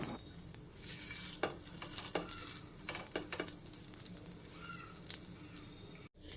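A folded, filled flatbread heats in ghee in a pan with a faint, steady sizzle, broken by occasional utensil clinks and scrapes as it is turned.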